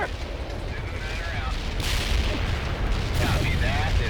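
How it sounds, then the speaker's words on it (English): A mortar artillery strike in World in Conflict rumbles as a dense, continuous barrage of booms and blasts close by, with sharper impacts cracking through the roar and radio voices talking over it. "Mortar strike inbound."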